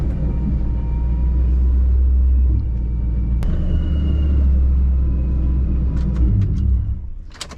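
A boosted Ford Mach 1 Mustang rumbles low and steady as it pulls over beside the water, engine droning close, then settling near the end with a few light clicks.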